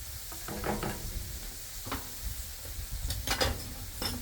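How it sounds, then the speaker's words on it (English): A small hand whisk works through flour to break up clumps in a pan, giving soft scraping and tapping strokes over a low sizzle, fairly quiet and close. "I'm going to go ahead and just get like a little hand whisk and make sure I'm working out all the chunks"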